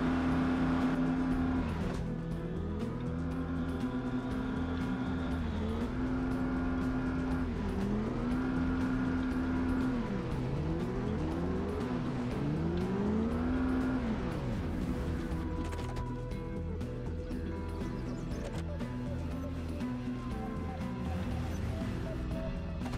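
A truck drives in the video game Project Zomboid, its engine droning steadily and rising and falling in pitch through repeated gear changes as it accelerates, close and prominent, with a voice talking now and then.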